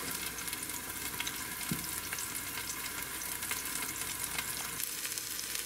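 Korean gochujang pork searing in a hot pan, a steady close sizzle and crackle with occasional stirring scrapes and no talking.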